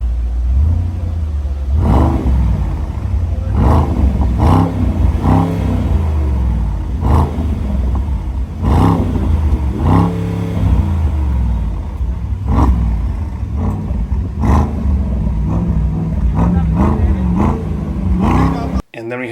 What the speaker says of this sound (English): Loud exhaust pops.